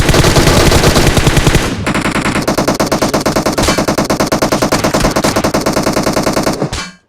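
Rapid automatic gunfire from a battle royale video game, a dense burst up front followed by sustained steady bursts of shots, loud and close with no talking.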